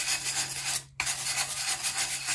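A stiff bristle brush scrubs firmly over foil pressed onto a craft surface, producing a continuous close, rhythmic rasping with one brief pause midway.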